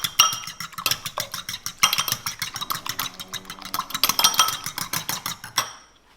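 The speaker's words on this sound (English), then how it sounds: "Just a couple of eggs into a bowl and quick whisk." A couple of eggs being quickly whisked in a bowl, a rapid train of bright clinking taps in an even rhythm that runs close and loud before stopping abruptly, with no voices.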